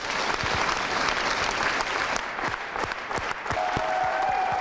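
A packed hall at a Ukrainian film premiere breaks into loud, sustained applause for frontline soldiers and Maidan veterans, a dense continuous wash of clapping from a large crowd throughout.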